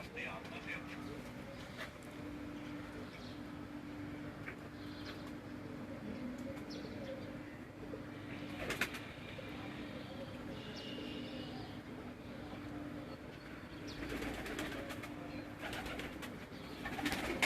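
Pigeons coo softly at a keeper's loft in a pigeon fancier's home, faint and steady beneath a low background hum, with voices talking nearby and an occasional flutter.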